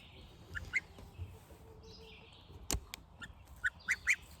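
Chickens and goslings peep and call in short, high bursts, scattered and fairly close, with a low rumbling background.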